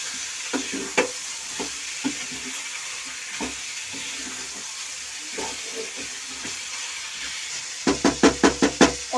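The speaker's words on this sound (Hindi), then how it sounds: "इसे अच्छे से मिक्स करूंगी।" Potatoes being stirred into fried fenugreek leaves in a pan for aloo methi sabzi: a steady sizzle under repeated scraping strokes, ending in a quick run of loud, rhythmic spoon knocks.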